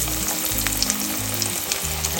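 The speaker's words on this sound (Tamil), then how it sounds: "இன்னைக்கு ரவா ayala மீன் ஃப்ரை பண்ணுறேன்" Rava-coated Indian mackerel (ayala) fillets fry in a pan with a dense, steady sizzle up close, a low tonal backing humming underneath.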